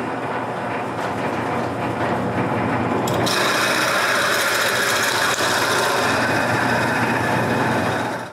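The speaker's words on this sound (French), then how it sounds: "je perce un trou au centre pour les transformer en rondelles de bois" A drill bores the center hole through small wooden pieces being turned into wooden washers, a steady loud whirring grind running throughout that grows harsher and brighter partway through.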